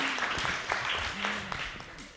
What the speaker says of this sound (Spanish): Te quieren aplaudir, parece.